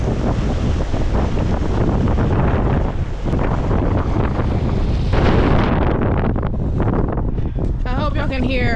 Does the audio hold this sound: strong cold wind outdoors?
yes